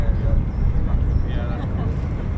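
A military aircraft arrives at RAF Lakenheath, home of the 48th Fighter Wing, giving a continuous low, rumbling jet roar with some wind noise throughout.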